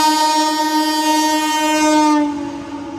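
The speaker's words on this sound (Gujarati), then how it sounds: "ક્રોસિંગ છે અત્યારે, સામેથી એક બીજી ટ્રેન આવે છે" A train sounds a long, loud horn as it passes close by at a railway crossing, the steady blast holding for about two seconds before cutting off, with rumbling wheels continuing underneath and no talking.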